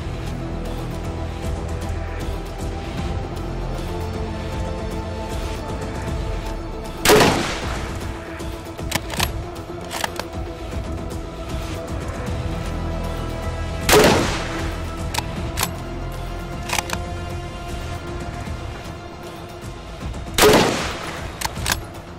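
A Mauser System 98 rifle in 8x57IS fires explosive B cartridges, three sharp, loud gunshots spaced several seconds apart over a steady outdoor background hum.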